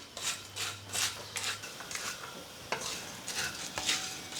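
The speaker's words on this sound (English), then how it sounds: "I'm adding the samyangnamen noodles. I'm gonna fry them until they're golden brown." Shin Ramyun and Samyang ramen noodles frying in a pan, with a steady sizzle under repeated scraping and stirring strokes, close and fairly quiet, with no talking.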